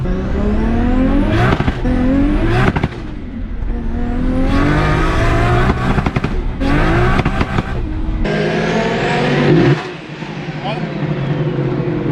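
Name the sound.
powerful street car accelerating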